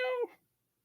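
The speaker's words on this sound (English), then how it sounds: "So that's my cat." A pet cat gives a single short meow, close and clear, falling off quickly into silence.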